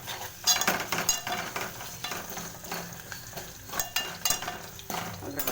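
Oggarane tempering sizzles hard in a hot pan as it is stirred, with loud bursts of crackling and repeated scraping and clattering of a utensil against the metal, close and alone.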